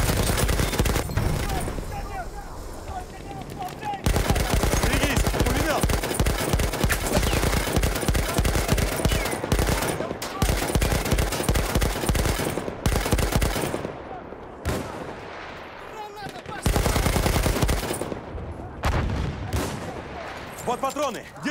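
MG 08/18 machine gun firing in a video game battle at Tsaritsyn, long rapid bursts of loud automatic fire broken by short pauses, with other gunfire and explosions around it and occasional shouted voices.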